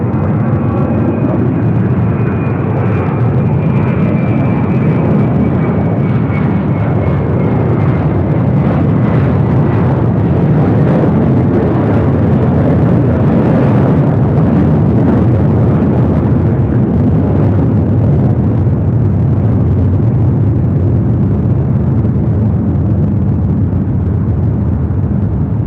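A jet airplane takes off from runway 6 right at LAX, a loud, sustained roaring rumble that swells and holds throughout, heard from close by with a faint high whine early on.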